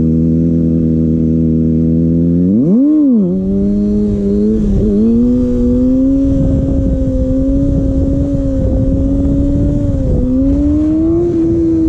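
A Kawasaki ZX6R engine rises in a quick rev, dips, then holds a steady, loud drone with small throttle swells while being ridden at low speed, continuous and close throughout.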